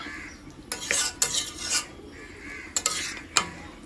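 Cooked chicken curry with garam masala stirred in a pan, a metal spoon scraping and clinking against the sides in irregular bursts over a faint sizzle, close and fairly loud.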